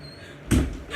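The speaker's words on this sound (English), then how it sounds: "We'll close the door." One dull thud of a door shutting close by, a single brief impact after quiet room tone.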